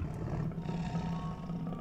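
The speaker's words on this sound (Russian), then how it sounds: "Ну да, саблезубый тигр." In the Jurassic World video game, a sabre-toothed tiger lets out a deep, rumbling roar that is loud and sustained for about two seconds, with no talking over it.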